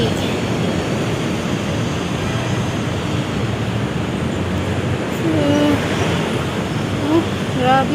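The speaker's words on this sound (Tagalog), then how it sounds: "Ayan, traffic." Busy roadway traffic on a hot afternoon near an overpass, a steady close rumble and hiss of passing vehicles with a couple of faint horn-like tones, and a person's voice briefly under the noise.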